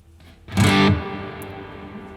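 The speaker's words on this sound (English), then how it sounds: "There's the reverb." A single electric guitar strum through a Neural DSP Archetype: Nolly plugin rings out, then a long reverb tail washes and slowly decays, fading gently into a lingering shimmer.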